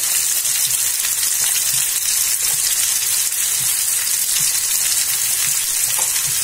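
Potatoes and turmeric powder sizzling in a pan, a steady, loud, hissing fry that continues unbroken with faint stirring scrapes underneath.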